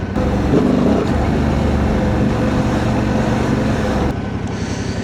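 A Honda Transalp 750 motorcycle with a remapped ECU being ridden, its engine drone steady and loud under heavy wind rush from start to finish.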